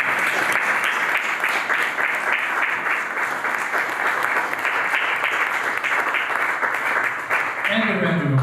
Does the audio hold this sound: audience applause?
yes